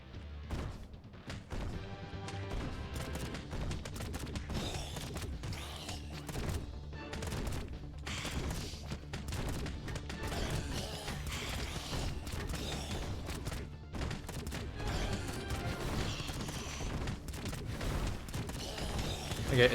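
Turrets in the video game Last Kids on Earth and the Staff of Doom fire at waves of enemies, making a dense, continuous clatter of rapid shots and mechanical clanks at moderate level throughout.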